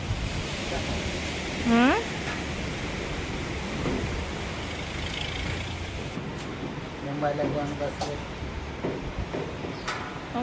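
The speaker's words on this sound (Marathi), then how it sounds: "फक्त वारा सुटलाय बा किती वारा आहे" Wind roars and buffets steadily against the microphone with a broad, rushing noise, while brief voices and a few short tonal sounds come through underneath.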